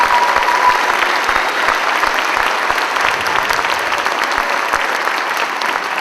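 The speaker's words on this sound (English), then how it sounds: "And one last applause for our musicians tonight" An audience at a school winter concert gives musicians a loud, sustained round of applause, many hands clapping densely and evenly for several seconds.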